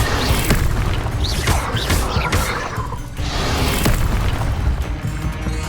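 Spell effects burst out in Hogwarts Legacy, with loud booming blasts and crackling magical whooshes packed densely over several seconds of busy combat.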